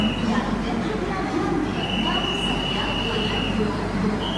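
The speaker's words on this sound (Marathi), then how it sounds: "मित्रांनो, आपली गाडी सुटलेली आहे LTT स्टेशनवरून." The 12201 Garib Rath train pulls out of LTT station with a continuous rolling rumble and a faint high squeal of wheels, while voices carry on nearby.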